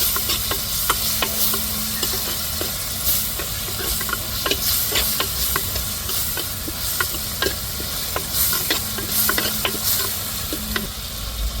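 Small shallots sizzling and frying in a pan for a country chicken curry, with steady crackling hiss and frequent sharp clicks of a spoon stirring against the pan.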